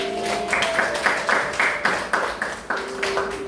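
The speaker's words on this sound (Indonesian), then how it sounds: "Iya, tepuk tangan." A classroom group claps along in a steady rhythmic beat, the hand claps evenly spaced and fairly loud, with a faint ringing tone underneath.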